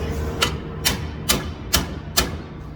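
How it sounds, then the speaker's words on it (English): Five evenly spaced lead hammer taps strike a metal car lower A-arm, each a sharp knock about half a second apart over a steady low mechanical hum. "I'm using a lead hammer, that way I don't put any dings or dents into it"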